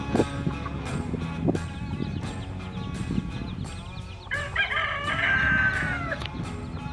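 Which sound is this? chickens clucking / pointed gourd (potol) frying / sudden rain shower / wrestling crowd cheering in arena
chickens clucking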